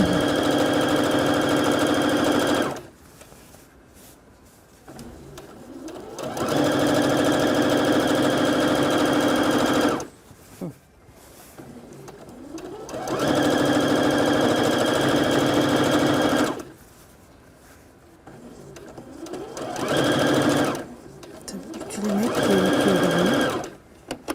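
A sewing machine stitches fabric for a homemade bread bag, running loudly and steadily in bursts of several seconds, with pauses between bursts where people talk.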